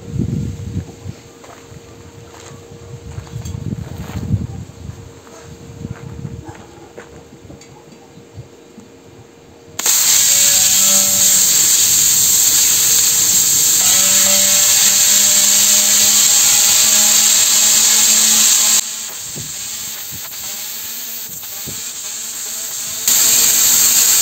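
A power tool cuts freehand around a dry, empty steel gas cylinder being made into a homemade sandblaster. It starts with quieter knocking, then a loud, steady, high cutting whine runs for many seconds with brief shifts in pitch.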